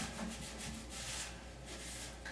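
Crud being scrubbed off a vintage sewing machine with WD-40: soft, close rubbing and wiping that carries on unevenly, with no voice over it.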